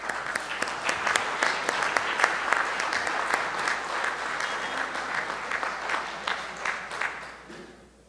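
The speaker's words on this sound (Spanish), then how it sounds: "Los despedimos con un fuerte aplauso." Warm applause from an audience at a university accreditation ceremony for a mathematics degree program, dense steady clapping for about seven seconds that tapers off at the end.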